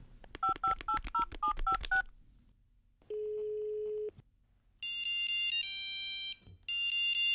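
A cell phone number dialed on a keypad in a Chilean puppet comedy show: a rapid run of keypad beeps, a single steady tone, then loud electronic ringtone-like warbling in two bursts.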